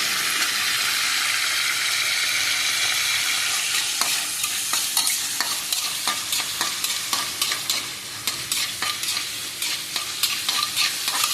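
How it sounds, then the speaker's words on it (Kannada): A large chopped onion sizzles in hot oil in a pan, a steady close hiss that grows busier with scraping stirs in the latter half. "ದೊಡ್ಡ ಒಂದು ಈರುಳ್ಳಿ ಹಾಕ್ತೀನಿ"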